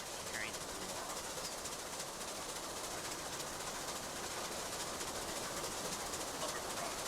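Steady train rumble with a broad, constant hiss and faint clatter from the video game Transport Fever 2, running continuously at an even level throughout.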